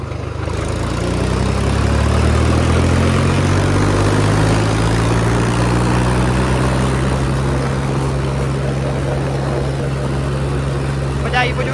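A Mahindra 275 TU tractor engine idles nearby, a loud, steady diesel chug whose pitch settles in the first seconds and then holds evenly throughout.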